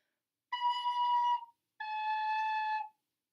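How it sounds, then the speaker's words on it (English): Two sustained, breathy recorder notes, B then A, the second slightly lower than the first, separated by a short pause; clear and close with no talking. "I want you to practice B and then A"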